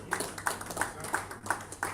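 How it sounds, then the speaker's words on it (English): Audience at a public report presentation claps in a short, faint burst of evenly spaced hand claps that continues steadily for two seconds. "The round of applause."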